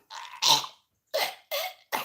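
A voice imitates a cat coughing and retching: a strained gagging sound followed by three short, harsh hacking bursts with brief pauses between.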